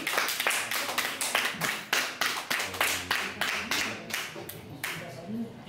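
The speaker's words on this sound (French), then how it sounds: "Et on l'applaudit bien fort." Scattered clapping from a small audience at a casual evening gathering, individual hand claps clearly separate and rhythmic, some close and sharp, the pattern loose and uneven as the applause continues.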